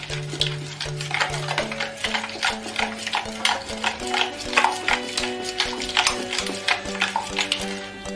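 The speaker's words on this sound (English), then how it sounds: "Just stir the sugar in. I'm using brown sugar." A spoon stirs brown sugar in a pot or bowl, scraping and clinking in a steady rhythm of close, repeated strokes, with a faint tonal hum beneath and no talk.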